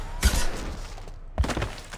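Two heavy gunshots or blasts ring out about a second apart in the video game Mass Effect 2, each a sharp thump followed by a short decaying rumble.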